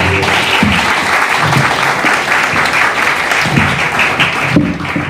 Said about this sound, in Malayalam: ഈ കയ്യടിയാണ് എൻ്റെ ഏറ്റവും വലിയ പ്രചോദനം.